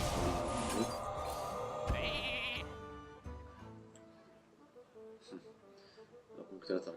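A sheep bleats in the Hearthstone card game after a Polymorph spell, a short wavering cry near the start amid game chimes and effects, with someone talking over the sounds throughout.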